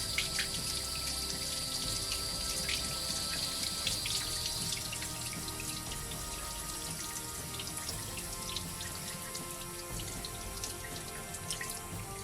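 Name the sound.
water running from a tap while rubbing paper off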